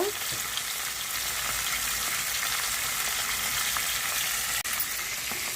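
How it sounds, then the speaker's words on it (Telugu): Dried ribbon fish frying in oil in a pan for an egg curry, giving a steady, dense sizzle that holds evenly throughout with no talking. "వేగుతున్నాయండి ఎండుపేపలు బాగా వేగిపోవాలి"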